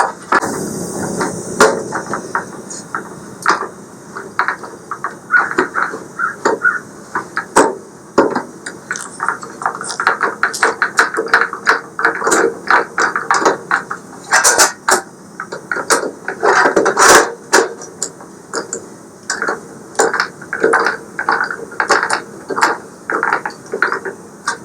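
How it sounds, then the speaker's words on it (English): Screwdriver driving screws into the body of a 22-inch Blackstone griddle (model 2015): rapid irregular ratcheting clicks and metallic taps in bursts, close and fairly loud, no talk. "You'll have to feed the screwdriver through this hole to get to the screw"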